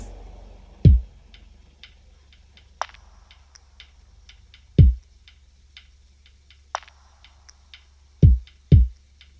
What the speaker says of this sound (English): Drums pattern sounds like this.